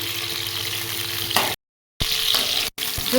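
Boiled, softened amla (Indian gooseberries) frying in oil for pickle: a close, bright sizzle broken by two brief silent gaps, with a faint stirring scrape.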